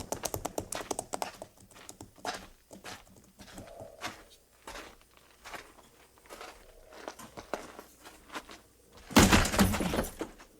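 Stolen horses being rounded up in the western drama Fort Laramie clatter in a steady trotting rhythm, close by, with scattered clanks, ending in a loud noisy burst.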